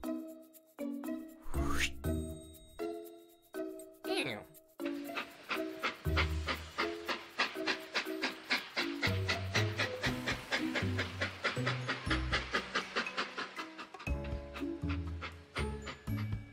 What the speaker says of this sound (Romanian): Atunci urcă în tren și hai să pornim!